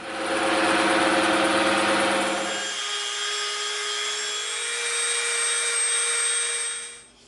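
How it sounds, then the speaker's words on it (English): A bandsaw runs loud and steady while cutting EVA foam, then the cutting load drops away and the motor hums on more lightly before it stops at the end. "let's go over to the bandsaw and do that"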